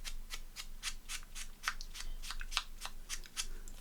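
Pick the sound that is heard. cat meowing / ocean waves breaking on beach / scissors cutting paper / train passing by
scissors cutting paper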